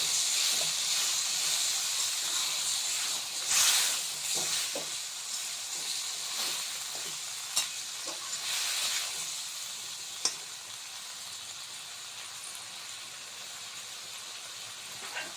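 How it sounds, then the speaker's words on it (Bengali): Hot water sprinkled onto banana stem curry sizzling in a pan, then covered: a steady hiss of steam and frying with a sharper burst partway through and a few clinks, close and continuous with no talking. "একটু সামান্য জল ছিটে দেবো গরম জল ছিটে দিয়ে একটু ঢাকা দেবো"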